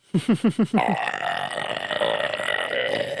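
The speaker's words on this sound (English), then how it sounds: "You're really good at burping." A run of five quick, loud burps comes in rapid succession, each a short rasping pulse, followed by a longer sustained belch that trails off under background noise.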